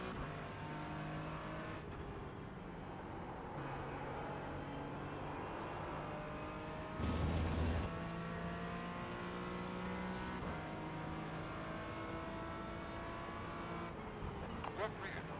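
A Porsche race car engine in a racing game, droning steadily with shifting pitch as it accelerates and changes gears, a brief louder burst midway, beneath a voice talking.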